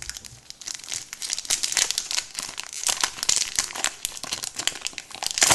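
Foil wrapper of a Pokémon Plasma Freeze booster pack being handled and ripped open, a dense run of close crinkling and crackling with sharp tearing bursts throughout, no talking.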